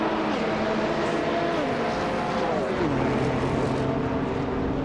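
Engine of a 1989 Ford Sierra RS500 race car in a racing video game, a loud continuous drone that climbs and falls in pitch as it shifts through gears, with other race cars roaring nearby.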